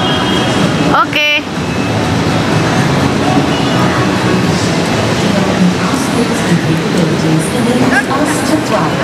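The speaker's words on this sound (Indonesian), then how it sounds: "Di dalam MRT ya guys, tapi ini style MRT-nya MRT lama" Inside a moving old-style Singapore MRT subway train, a loud, steady rumble of the carriage fills the ride, with a brief squeal or chime early on and voices talking over the noise.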